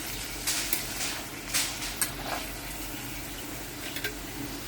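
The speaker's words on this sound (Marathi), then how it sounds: "पनीर इथे फ्राय करून घेते" Paneer frying in a pan gives off a soft, steady sizzle with occasional wet splashes and light utensil touches, close and moderately quiet throughout.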